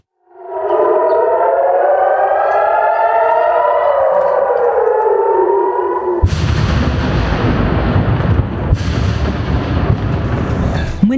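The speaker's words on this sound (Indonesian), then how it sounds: "Hampir setiap 10 menit sekali sirene berbunyi, pertanda mereka harus segera berlari ke tempat pelindungan." An air raid siren wails loudly over Kiryat Shmona in northern Israel, rising and falling for several seconds before the sound gives way to dense, rumbling outdoor noise.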